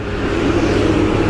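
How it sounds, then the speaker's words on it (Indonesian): A car roars along a road in Medan, its steady engine rumble loud and close for a moment with no other sounds over it. "Kencang kali nih mobil nih"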